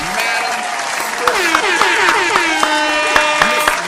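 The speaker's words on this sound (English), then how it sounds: "Y'all start clapping right now in the black light." An audience claps and cheers loudly while a voice speaks over the applause, with sharp individual claps standing out.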